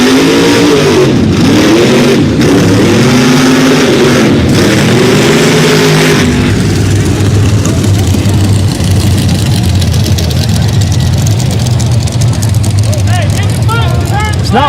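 A big mud bog truck engine at an outdoor mud bog event, idling rough and uneven with a possible lifter or valve problem, loud and close with swelling revs early, then a steady low drone under crowd noise and voices.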